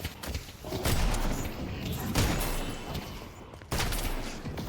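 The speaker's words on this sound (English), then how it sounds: "Shotguns are crazy at last hit." Shotgun blasts go off in the video game Deadlock, three heavy booming shots spaced about a second and a half apart, each with a thudding punch and noisy tail.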